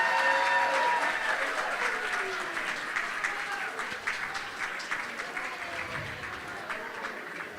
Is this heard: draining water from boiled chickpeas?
no